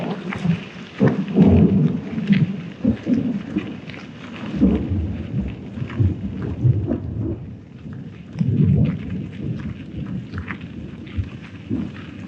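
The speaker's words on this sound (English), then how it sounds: "So it's raining again" Steady heavy rain with rolling thunder during a bicycle ride across Georgia, deep rumbles rising and fading repeatedly over a constant wash of falling drops.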